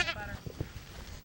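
A sheep bleats once up close on a farm with about 200 head, a short wavering cry at the start, followed by low rustling and faint murmured voices in the background.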